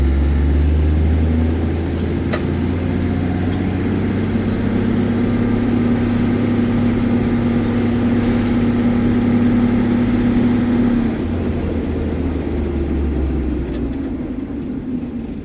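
A 1963 Ford Falcon Futura's engine runs steadily at a low, even rumble as the car is driven, loud and close throughout with a slight change in tone partway through, and no talking.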